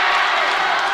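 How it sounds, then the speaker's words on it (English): Dense crowd roar at a high school basketball game, a steady broad wash of cheering and shouting that fills the whole moment without a break. "This crowd is loving it."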